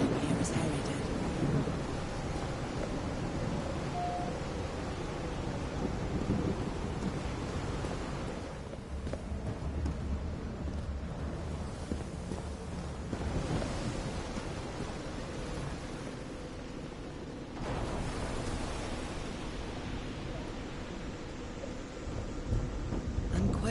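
Thunderstorm in the video game Call of the Sea: steady heavy rain and rumbling thunder fill the whole stretch, with a deep roll swelling near the start and the roar easing briefly in the middle before returning.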